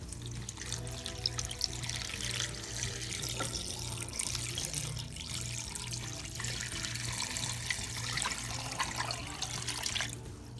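Water runs steadily from a tap into a cooking pot, a continuous splashing rush with a low hum underneath, no voices.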